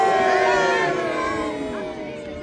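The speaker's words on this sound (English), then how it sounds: "If you are supporting King Henry and his troops, give them a cheer of King Henry now!" A crowd of spectators at the Battle of Crogen re-enactment at Chirk Castle cheers for King Henry and his troops, a sustained, loud chorus of many voices shouting together that tapers off over two seconds.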